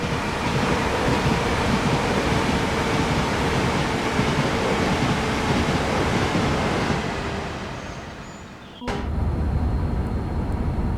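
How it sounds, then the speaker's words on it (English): Continuous rumbling of train wheels rolling on the track in a train simulator game, a Class 390 Pendolino on the West Coast Main Line, with a steady roar that dips briefly before a sharp clunk and the rolling noise resumes. "Track sounds of this on this train are very good."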